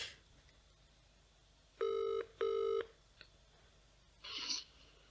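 Two steady electronic ring bursts sound in quick succession over a quiet line hiss, followed by a short noisy blip.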